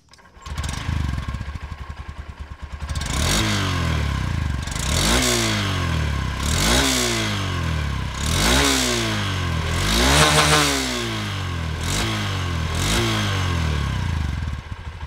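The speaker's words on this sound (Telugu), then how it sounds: "సో ఈ బైక్ ఎగ్జాస్ట్ నోట్ ఎలా ఉందో ఒకసారి చూద్దాం మనం" A 2025 Honda SP 125 motorcycle engine idles, then revs repeatedly in sharp rising bursts, its exhaust note loud and close, with steady rumbling between the throttle blips.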